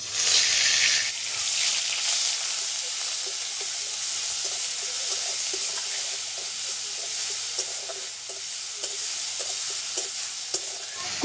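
Onion paste sizzling and frying in hot oil with a dried red chili and whole cumin, opening with a bright burst of hiss that settles into a steady sizzle, with faint stirring clicks scattered through and no voices.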